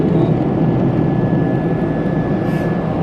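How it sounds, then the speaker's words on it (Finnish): Jet airliner engines roar steadily as the plane descends toward Chicago, a loud, broad cabin drone with a faint high whine running through it and no voices. "Ihan mielettömät noi moottorit siis."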